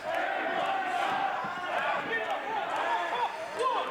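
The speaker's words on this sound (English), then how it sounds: "This crowd getting behind Lance Archer." A wrestling arena crowd cheers for Lance Archer during a match, a steady loud wash of shouting and crowd noise with voices talking over it throughout.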